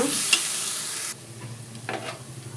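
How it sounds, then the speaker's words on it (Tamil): Boneless chicken hits a hot pan with turmeric and sizzles loudly, then the sizzle drops sharply. Softer stirring scrapes and crackles follow, close by with no talking. "இப்போ சிக்கன் போட்டுக்கலாங்க."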